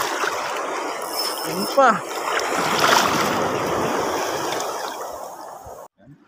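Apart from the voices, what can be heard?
waves on the water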